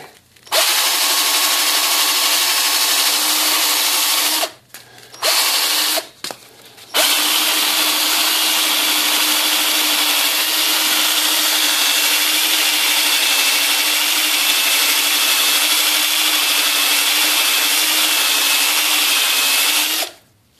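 A mechanical mod's surface is sanded with 180 grit paper in a loud, continuous scratchy rasp with two brief pauses, running almost the whole time without speech.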